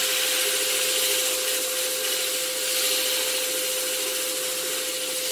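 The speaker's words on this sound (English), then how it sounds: "I'll just show you briefly how to sand. You can sand from both sides." Sandpaper rubs continuously against a thin-walled wooden bowl spinning on a lathe, a steady broadband hiss over the motor's constant whine, close and fairly loud with no talk.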